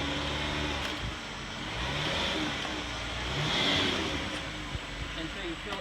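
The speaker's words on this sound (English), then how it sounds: "And then we're just going to pull up slowly up onto the ramp." A 2014 Chrysler Town & Country minivan creeping slowly up onto ramps for an oil change, giving a steady low engine hum with slight swells, while a person talks over it.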